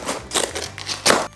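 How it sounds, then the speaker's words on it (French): Scissors snip and tear through a parcel of Energie Fruits goods in a few close, crackly bursts over about a second, with the loudest cut near the end. "Ah, attendez, il faut un ciseau. Une paire de ciseaux."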